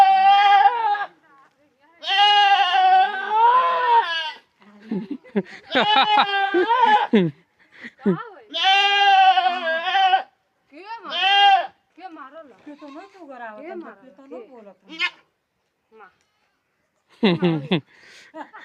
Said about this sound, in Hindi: ये एक छोटी मेरी बकरी है जो उसको देख के चिल्ला रही है